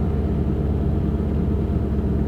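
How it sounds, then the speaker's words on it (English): A car engine idling a little rough after sitting unused for about a year gives a steady, close, low rumble that holds evenly throughout, with no one talking. "It's idling a tad rough too."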